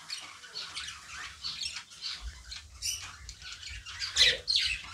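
Tiny budgerigar chick calling with a run of soft, repeated high squawks and chirps, close and fairly quiet, with a few louder peeps near the end and faint rustling underneath.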